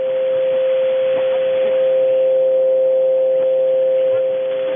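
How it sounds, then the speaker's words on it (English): An unmodulated radio carrier on a ham radio net frequency, heard as a steady loud tone with a few overtones over band noise. "we had a carrier maybe trying to check in"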